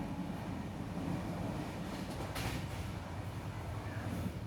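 A train running on Indian rail, 12134 Mangaluru–Mumbai Superfast, while overtaking a freight train: a steady, dense rumble and rolling wheel noise throughout, with a brief rise in hiss midway, no voices.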